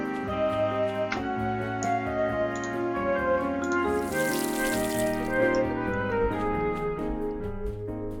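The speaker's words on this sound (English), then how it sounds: "Always fill your watering can before you start to water." A watering can fills with running water in the farming game Pumpkin Days, a steady splashing pour that swells briefly midway, heard over gentle background music.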